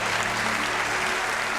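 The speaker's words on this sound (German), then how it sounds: "Großen Applaus." Steady audience applause at a magic slam competition in Austria, a dense even wash of clapping throughout at moderate level with no voices.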